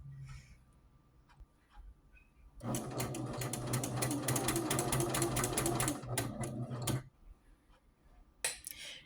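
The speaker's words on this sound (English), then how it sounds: "maybe you can see how I'm using the serger" A serger runs a hem through very thick fleece pants, a loud steady rapid mechanical chatter lasting about four seconds after quiet handling noises, then stopping with a few light clicks.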